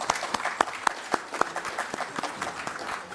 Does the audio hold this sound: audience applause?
yes